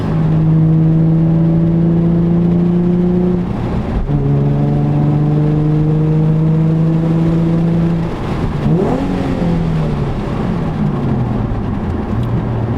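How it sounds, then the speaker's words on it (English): Nissan 350Z/370Z with an Invidia Gemini cat-back exhaust and Berk Tech high-flow cats, heard from inside the car: a loud, droning engine note rises through two long pulls, then drops and revs again. "Wanted to see what the exhaust sounded like."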